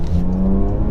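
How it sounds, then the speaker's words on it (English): A Porsche Macan S with turbos accelerates at full throttle, a brief rising engine tone with strong low harmonics and a whirring edge, heard from inside the car. "all you have to do is floor it,"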